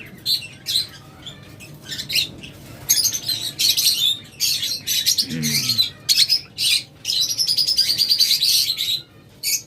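Lovebirds chirp in rapid, bright bursts, a busy chattering flock close by with steady background hum and a brief low squawk midway.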